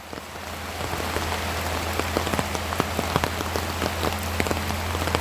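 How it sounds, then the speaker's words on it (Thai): Heavy rain pours steadily with dense hiss and scattered sharper drops pattering close by, with a low constant hum underneath and no voices. "ท่ามกลางสายฝนตกหนัก"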